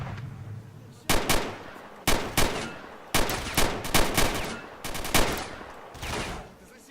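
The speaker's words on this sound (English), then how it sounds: "Someone's down there shooting at me." Gunfire in the video game S.T.A.L.K.E.R.: Shadow of Chernobyl, with about a dozen loud, sharp shots in uneven clusters, some fired as quick doubles, over a low background hum.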